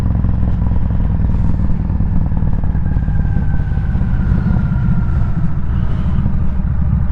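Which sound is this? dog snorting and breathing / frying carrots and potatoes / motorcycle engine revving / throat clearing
motorcycle engine revving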